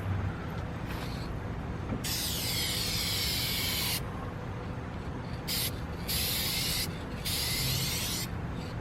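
Dupli-Color Perfect Match aerosol spray paint in Clover Green Pearl hisses out in loud bursts as a wetter coat goes on, roughly two- to one-second passes separated by short gaps, over steady background noise.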